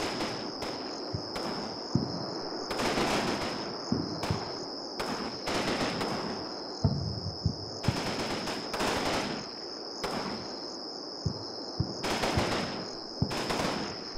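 Gunfire in the war game Combat Mission Fortress Italy, with repeated machine-gun bursts and single shots crackling across a battle over trenches and a fortified castle, set against a steady high insect-like drone with no talking.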